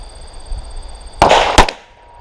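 Two sharp, loud 9mm pistol shots about 0.4 seconds apart from a Glock 34 firing rounds loaded with N340 powder, each a sudden crack with a short decay, over a faint steady background tone.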